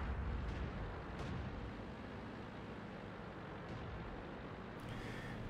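Tank cannon fire in World of Tanks, played as the T37 light tank: a steady low rumble of engine and battle noise with a few brief sharp bursts, loud and close, and no talking.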